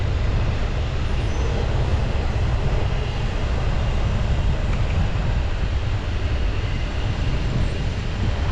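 A steady, loud rumble with broadband roar continues throughout, like a long freight train rolling past close by without letup.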